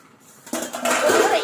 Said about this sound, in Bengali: তো বন্ধুরা আমি ঢাকনাটা খুলে দেখি কতদূর কি হলো